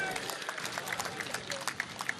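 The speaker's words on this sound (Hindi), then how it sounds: "जोरदार ताली उनके लिए।" Sustained applause from a crowd at a religious gathering, dense clapping with scattered sharper claps, steady and moderately loud throughout.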